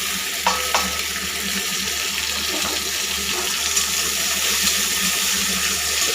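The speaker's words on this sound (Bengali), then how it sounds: "এটাকে হালকা একটু ভেজে ফোড়নটা দিয়ে দেব।" Garlic cloves frying in a little oil in a kadai, a steady close hissing sizzle that runs unbroken throughout with a few faint pops and clicks, no voices.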